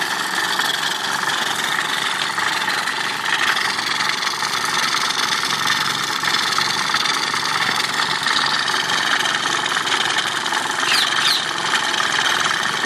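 A Wilesco D5 model steam engine with a single-action piston runs steadily, giving a continuous loud hissing, whirring drone with faint rapid chuffing and no pauses, water spitting from an overfilled boiler.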